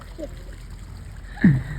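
Water is poured over a person's head while bathing, making one short, close splash near the end that follows a quiet stretch with faint voices.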